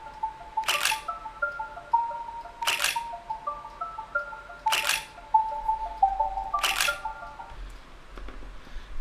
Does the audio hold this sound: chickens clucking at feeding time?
no